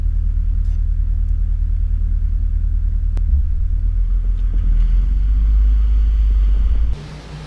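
A Toyota Hilux rolls slowly into an off-road obstacle, giving a steady, close low engine rumble with faint clunks, then cutting off near the end.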